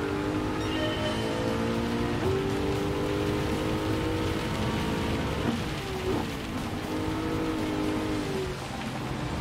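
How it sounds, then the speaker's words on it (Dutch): Steady rain in Gran Turismo 7 during a World Touring Car 600 race, a constant hiss over the drone of car engines, loud and unbroken throughout. "Ook regent het wel de hele tijd."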